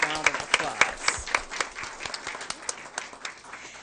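An audience at a school board meeting applauds student athletes, with steady overlapping claps from a mid-sized room that gradually fade and thin out.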